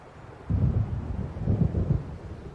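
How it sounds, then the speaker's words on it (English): Distant rumbling thunder of an approaching storm in Alan Wake Remastered, a deep rolling roar that swells twice and fades, with wind noise underneath. "It seems there's a storm coming."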